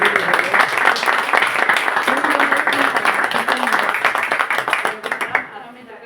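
An audience at a poetry book launch in a bookshop breaks into warm, sustained applause, many hands clapping densely for several seconds before fading out abruptly near the end.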